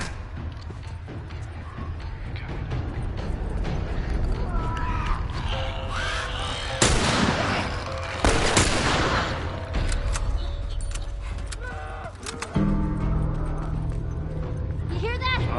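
Rifle gunfire in The Last of Us, a few sharp cracks standing out over steady game ambience while someone talks over much of it.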